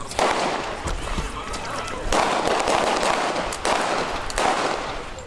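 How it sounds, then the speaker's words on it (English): Gunshots fired at a Minneapolis memorial marking a year since George Floyd's murder, caught by news crews: several loud, sharp bursts of gunfire over a dense, noisy outdoor background with voices. "multiple gunshots were fired at a memorial in Minneapolis to mark a year since the murder of George Floyd"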